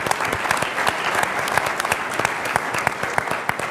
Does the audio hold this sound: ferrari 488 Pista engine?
no